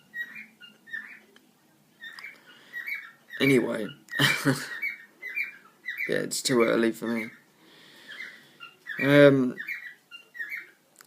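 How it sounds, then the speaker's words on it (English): An outdoor bird repeatedly squawks and whistles in loud, close bursts, a series of sharp calls of varied length, with someone talking quietly between them. "Shut up, you damn bird."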